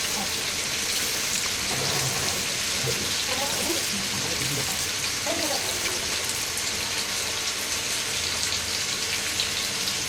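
Pre-boiled bitter gourd sizzles in hot oil in a pan, a dense steady hiss that runs throughout with a voice talking faintly over it.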